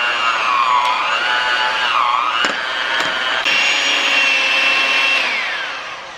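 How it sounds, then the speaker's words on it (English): A handheld electric mixer whips cream cheese with whipped topping and lemon juice, a steady whirring motor drone whose pitch dips and rises as the beaters work through the thick mixture, with a few clicks and knocks against the bowl. "then we're going to mix this with our handheld mixer until nice and fluffy"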